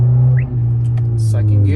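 Honda Accord with muffler and resonator deleted pulling away in first gear on the street, a loud, steady low exhaust drone close by with a slight dip midway.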